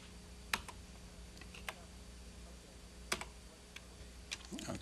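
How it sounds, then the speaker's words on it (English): Sparse, quiet keypresses on the small keyboard of an early speech synthesizer, a few separate clicks spaced irregularly against a faint hum. "what I've done here is with this little keyboard, I've stored some messages ahead of time by typing them in"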